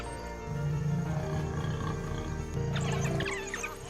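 A lion roars on the Okavango savanna: a deep, drawn-out roar that swells and holds for about two seconds, then a shorter second roar, loud and close, with no talking.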